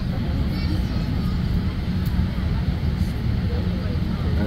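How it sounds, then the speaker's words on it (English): Airliner at JFK airport about to take off after pushback: a steady, loud cabin roar of engines with a broad rumbling hum and no distinct changes. "we are pushed back all the way, and then now we're about to take off."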